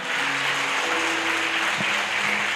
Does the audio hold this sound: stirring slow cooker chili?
no